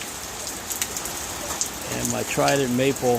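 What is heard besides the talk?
rain falling during Hurricane Milton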